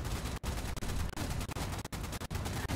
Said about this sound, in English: I'm literally shooting fucking missiles at it.